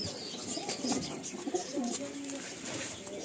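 A pair of Saharanpuri pigeons coo softly in a few low, throaty calls, close but quiet, with background talk and light rustling.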